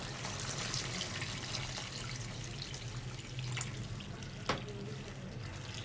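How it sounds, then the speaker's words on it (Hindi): Water pours into a cooking pot of meat and whole tomatoes for arvi gosht, a soft continuous splashing trickle at low level with a faint clink near the end. "2 गिलास पानी डालेंगे।"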